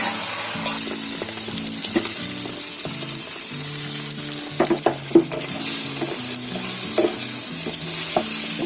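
Beaten, salted egg sizzles steadily in a hot pan while a utensil stirs and scrapes it in irregular strokes, with occasional sharp clinks against the metal.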